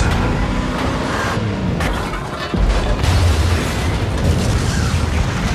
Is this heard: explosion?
yes